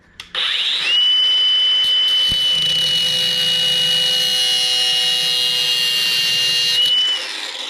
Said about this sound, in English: As gentle as you can be with an angle grinder.